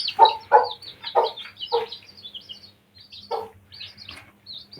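Newly hatched baby chicks under an Aseel hen peep close by in a run of short, bright cheeps, bunched at first and then sparser with brief pauses, no talking.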